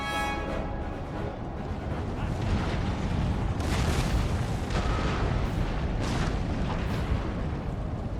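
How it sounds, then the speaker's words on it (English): Artillery fire in Empire: Total War, a game battle: a dense, continuous roar of booming cannon blasts and rumbling impacts, with several sharper bursts standing out over the constant din. "Hit a few more with artillery that turn around."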